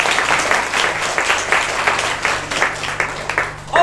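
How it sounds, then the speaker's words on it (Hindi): A church congregation applauds steadily in praise, a dense, continuous clapping crowd for several seconds, fairly close and loud. "ताली हो जाके प्रभु की महिमा।"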